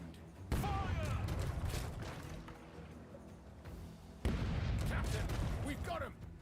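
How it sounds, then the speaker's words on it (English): Ship's cannons firing in the pirate video game Rogue Waters, two heavy booming blasts a few seconds apart, each followed by a long rumbling crash and debris, loud and dense throughout. "Cannon crew, give 'em a round."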